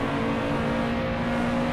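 A loud, steady car engine drone with a constant hum, close by and continuous, no voices.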